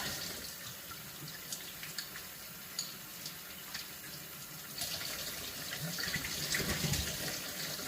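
Running water from a tap splashes steadily over a removable part being rinsed out in a sink, a continuous hiss with small clatters, swelling louder and fuller near the end.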